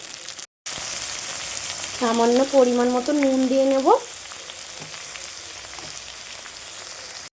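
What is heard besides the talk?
onion and tomato frying in a pan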